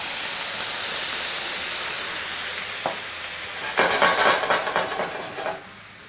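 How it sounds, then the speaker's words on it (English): Leinenkugel Summer Shandy is poured into a hot stir-fry pan of pepper steak to deglaze it: a steady background hiss, then a sudden loud crackling sizzle that bursts and fades over a couple of seconds. "we're going to add the Leinenkugel Summer Shandy to the pan to deglaze"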